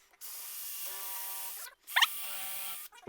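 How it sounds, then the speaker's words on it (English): A power drill driving screws into an oak shoe on a stair railing, two steady whirring runs of about a second and a half each, separated by a brief pause with a sharp squeak as the screw seats. "Yeah, we'll put a couple screws in."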